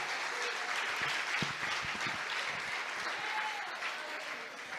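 A church congregation applauds during a sermon, a steady wash of clapping from many hands at moderate distance, fairly quiet and continuous throughout.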